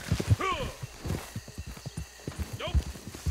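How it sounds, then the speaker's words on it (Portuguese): A horse in the video game Red Dead Online clip-clops along in a steady hoof rhythm and lets out two short whinnies, with players talking over it. "Pô, tem um cavalo aqui, cara."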